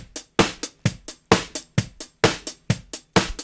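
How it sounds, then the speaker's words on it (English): A full drum kit heard through two overhead microphones: bright cymbal wash over steady kick and snare hits in a driving rhythm, moderately loud, no voices. "And 2 overheads. Those sound like this."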